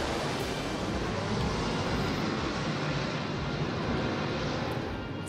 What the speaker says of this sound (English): planes flying across, trailing smoke in red, white and green, the colours of the Italian flag